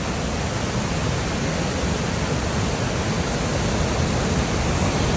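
Near Badrinath, the Saraswati river rushes loudly and steadily, a dense unbroken roar of fast-flowing mountain water with no other sounds over it.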